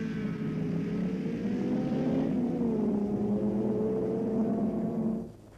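Racing engines of 1966 touring cars, including an Alfa Romeo GTA, a Ford Mustang and a Lotus Cortina, drone steadily at a distance with a sustained mid-pitch roar that shifts slightly in pitch before cutting away abruptly.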